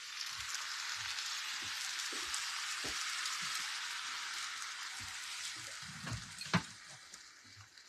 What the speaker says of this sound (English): let's throw our eggs in. You literally pour them over like this.